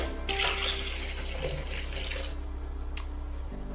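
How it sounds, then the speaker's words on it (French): Water from a tap is added to a lemon drink being made, a steady splashing pour lasting a few seconds before stopping, with faint kitchen background. "Je rajoute un peu d'eau."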